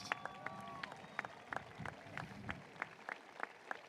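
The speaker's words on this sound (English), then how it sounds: "Please give these students another round of applause" A few scattered claps ring out sparsely and faintly from an audience at a high school graduation ceremony for honor students, set against a quiet hall with faint background voices.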